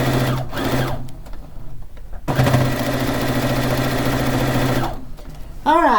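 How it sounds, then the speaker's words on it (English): A sewing machine stitches fish quilt blocks in quick, loud whirring bursts, stopping briefly twice between runs, with short pauses and handling noise in the gaps. "Let's finish sewing this one"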